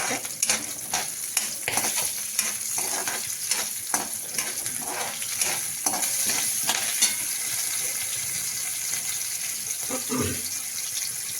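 Green chili pieces and dal fry in a pan with a continuous sizzling hiss, while repeated stirring scrapes and clatters sound up close and a louder clunk comes near the end.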